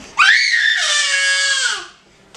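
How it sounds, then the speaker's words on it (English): A baby girl screams playfully during dinner, one loud, close, high-pitched scream held for nearly two seconds before trailing off. "she likes to scream like this all of the time"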